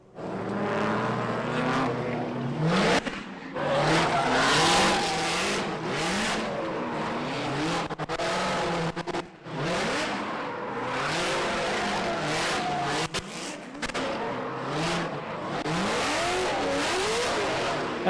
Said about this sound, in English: Alan Boss warming up the tires on his LS9 350Z